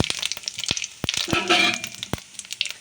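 Whole cumin, bay leaves and dried red chillies sizzle steadily in hot oil in a wok, with sharp crackles and pops scattered through the frying hiss.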